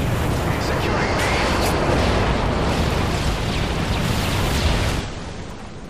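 A continuous roaring wash of bomb-run explosions from an airstrike in a military video game rumbles loud and dense for about five seconds, then eases off.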